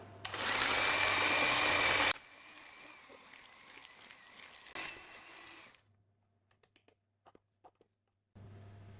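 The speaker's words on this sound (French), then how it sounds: "on va venir fouetter tout ça directement au batteur" Electric mixer whisking egg yolks with sugar and a pinch of salt for a coconut jam roll cake, a loud steady whir for about two seconds, then quieter kitchen handling and a short final burst.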